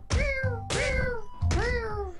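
Three cartoonish cat meows from the HackyCat juggling game, evenly spaced and clear, each a rising-then-falling mew over a soft low thud, with no talking.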